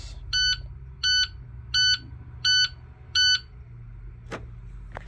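An International truck's dashboard warning alarm gives five evenly spaced, sharp electronic beeps in the cab over a low idle rumble, then stops.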